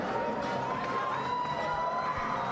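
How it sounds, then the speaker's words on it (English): A sold-out crowd at the Belasco Theater in downtown Los Angeles roars during a boxing match, a continuous wash of cheering and shouting with a whistle-like tone rising above it. "you can hear the crowd"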